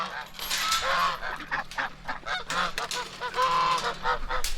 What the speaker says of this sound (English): These are the Egyptian geese right over here.